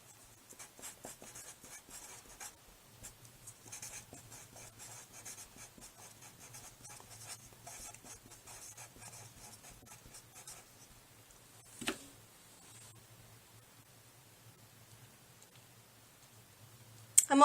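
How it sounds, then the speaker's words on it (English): A pen writing annotations on paper beside a poem, a steady close scratching of short strokes that stops, gives a couple of sharper taps, then falls quiet. "So I'm going to put a star and write infer"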